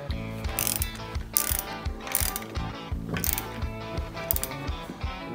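Repeated ratchet clicks from a 3/4 inch ratchet tightening washer-and-nut caster mounts on a motorcycle dolly, a steady close series of sharp mechanical ticks in quick bursts with no talking.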